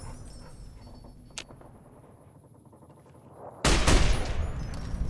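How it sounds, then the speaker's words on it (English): Gunfire in the Fallout New Vegas video game: a quiet stretch with one sharp crack, then a sudden loud burst of several rapid shots and echoing reports near the end. "you just hear some gunshots"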